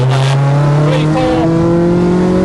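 A Mk2 Volkswagen Golf GTI, a heavily modified one-off build, pulls hard in second gear on a road, its engine note loud and rising steadily from inside the car.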